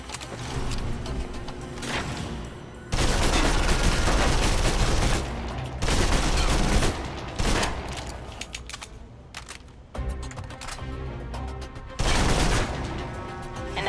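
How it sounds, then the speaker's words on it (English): Submachine gun fire in the video game Alpha Protocol: loud, dense automatic bursts of a few seconds each, separated by short lulls, with nobody talking. "If you're trapped in close quarters with multiple opponents, the SMGs can help clear the room quickly"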